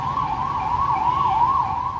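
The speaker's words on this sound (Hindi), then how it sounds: "एम्बुलेंस भाग रही है।" An ambulance siren wails in a steady rising and falling sweep, loud and close throughout, with low road rumble beneath it.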